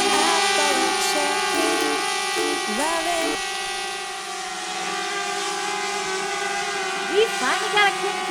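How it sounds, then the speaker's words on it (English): A drone flies outdoors in Bavaria, its steady high-pitched motor whine droning continuously throughout, with a few brief voices breaking in near the start and end. "We finally got a quick drone flight in"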